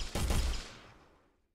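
A weapon fired in an Unreal Engine game project, a quick burst of two or three close gunshots merging into one blast that fades out over about a second.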